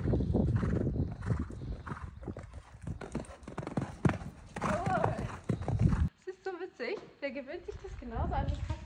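A horse walks over snow at an outdoor jumping-course session, its hooves giving soft muffled steps under almost continuous talk, with a brief whinny-like sound later.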